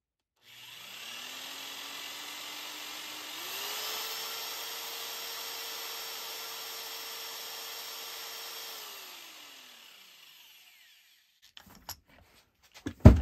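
Power drill turning the input shaft of a 50:1 speed reducer in a workshop: a steady whirring motor tone that steps up in pitch, runs evenly for several seconds, then winds down, followed by a few sharp clicks and knocks.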